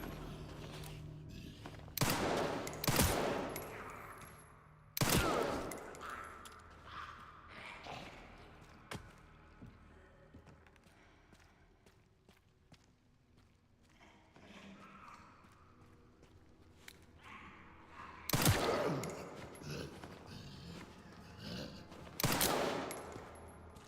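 Gunfire in the video game Resident Evil 9 comes in several sharp bursts of shots with heavy recoil, separated by quieter stretches of game ambience and thuds, moderately loud against a low background.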